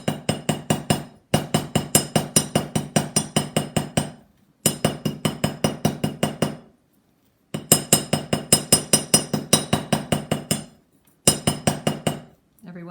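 A double ball-peen hammer forges wire for a teardrop wire frame, making loud, rapid, evenly spaced metallic taps in several long runs broken by short pauses, close and clear.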